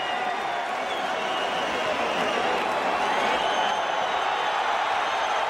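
A boxing arena crowd at a heavyweight fight roaring steadily in a dense, continuous wash of cheering and applause, loud and sustained, with a commentator's voice over it.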